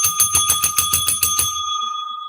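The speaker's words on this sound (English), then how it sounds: "That's the bell." A small bell rings about a dozen quick, bright dings in a steady rhythm, close and loud, then leaves a clear ringing tone that fades out alone.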